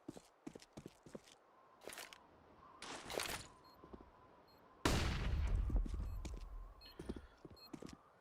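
Gunfire in a PAL 2020 esports match of a tactical shooter, ViCi Gaming against Lucid Dream, with a Mac 10 fired up close: sharp bursts and single shots, then a heavy sustained volley with footsteps and crunches between.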